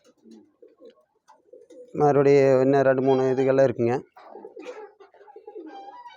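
Pigeons of the Lahan and Romer breeds coo on a natural farm, one strong warbling, throaty call lasting about two seconds, close by, with someone talking in Tamil before and after it.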